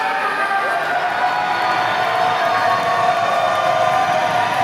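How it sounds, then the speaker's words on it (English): A wrestling crowd in Olathe roars steadily and loudly throughout, a dense, unbroken wall of cheering. "The crowd in Olathe is loving every second of it."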